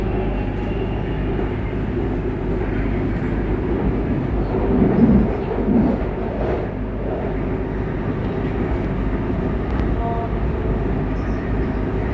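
Interior of a Bangkok MRT Blue Line electric train in motion: a steady, loud rumble of wheels and motors with a low hum throughout and faint brief swells.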